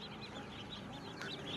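Ducks quacking in a busy poultry market among chickens and ducklings, a dense chorus of overlapping nasal calls heard faintly and continuously.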